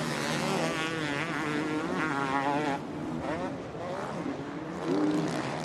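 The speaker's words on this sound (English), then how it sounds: "We just want to listen to the 2-stroke." A two-stroke motocross bike races during AMA Motocross qualifying at the Washougal National, its high buzzing engine note rising and falling continuously, with crowd or commentary noise mixed in the background.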